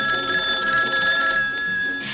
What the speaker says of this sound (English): a kitchen phone at hand when friends call up to chat a bit